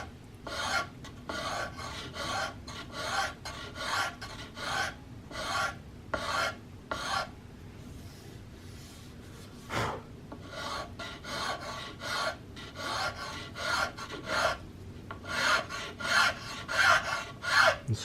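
A file rasps rhythmically along a wooden CVA Hawken muzzleloader rifle stock near the barrel, repeated short scraping strokes in quick sequences with brief pauses, close and moderately loud.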